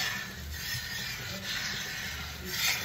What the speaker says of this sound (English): I just use a spatula and just scrape. And it gets all of that goodness off the bottom